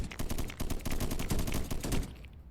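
Sniper units firing in the swarm-survival strategy game Deep Among the Swarm, a dense rapid volley of loud gunshots that stops abruptly near the end.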